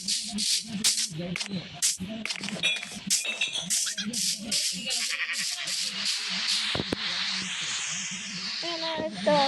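A goat bleats repeatedly in a farming video game, short nasal calls recurring among game clicks and rattles with a voice talking over them.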